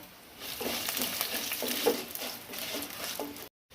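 Curry leaves and dried red chillies sizzle and spit in hot oil in a Kerala kitchen, a steady close crackling fry with brief stirring clinks, no voices, ending in sudden silence.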